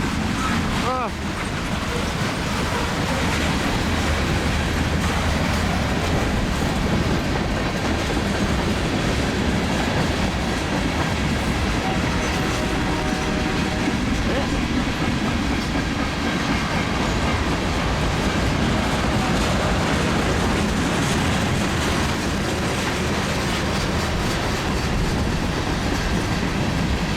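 A BNSF grain train of hopper cars rolls past close by, a loud continuous rumble with clickety-clack from the wheels, buffeted by wind noise and with loose plastic flapping on top of the cars.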